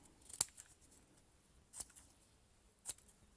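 Three quick, crisp snips of scissors trimming a paper gasket for a Tecumseh lawn mower engine, spaced about a second apart and close up against a quiet background.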